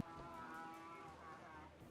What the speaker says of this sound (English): I think I can hear donkeys